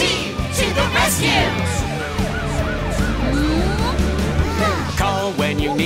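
A police car siren wails, sweeping up and down repeatedly, in a children's cartoon, with bright tonal music and effects layered over it throughout.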